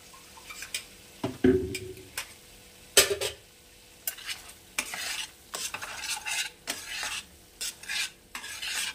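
Spice paste for a Bengali-style vegetarian paneer kalia frying in a pan over low flame, with repeated scraping and stirring strokes over a steady close sizzle, and one louder clatter partway through.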